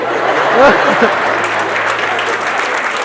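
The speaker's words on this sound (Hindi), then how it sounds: "लोगों ने तालियां बजानी बंद कर दी।" A crowd at a motivational talk claps steadily in a dense, even patter, with a brief voice near the start.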